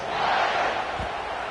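A stadium crowd roars in NCAA 26 as a college football team lines up to kick off. The sound is a dense, sustained wash of cheering voices, fairly loud and even, held for the whole brief moment.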